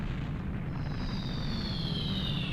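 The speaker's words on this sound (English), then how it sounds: "That rumbling." A deep, continuous rumble in The Legend of Zelda: Ocarina of Time, steady and fairly loud throughout, with a faint high whistling tone gliding over it.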